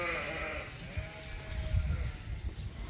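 Dry ewes in a pen on a sheep farm, a near bleat or two with a wavering tone early and midway over a low rustling, shuffling background.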